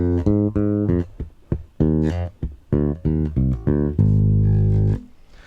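A bass guitar plays a one-bar lick with clipped, fretting-hand-muted notes in a bouncy rhythm, closing on a long sustained low note that rings out, played solo with no talking.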